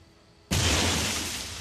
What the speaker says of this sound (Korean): 큰 나무를 차가 쾅 하고 들어받았어요